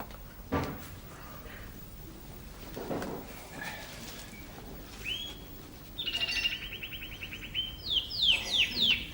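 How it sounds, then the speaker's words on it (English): A bird chirping indoors, a few bright repeated tweets and a short trill toward the end, fairly near, following scattered knocks and household movement. "I don't know what it is about this bird, but it's in every room."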